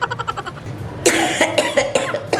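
Repeated harsh coughing from a person in a comedic Punjabi household scene, several loud close bursts after a quieter stretch, coming in an uneven rhythm.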